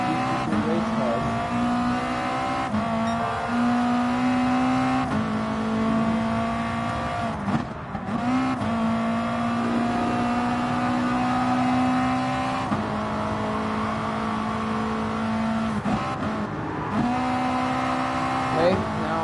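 BMW M6 GT3 race car in Gran Turismo Sport, engine revving steadily through repeated upshifts with brief dips between gears, tire noise underneath, someone talking over it.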